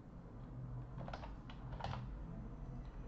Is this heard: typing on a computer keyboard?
yes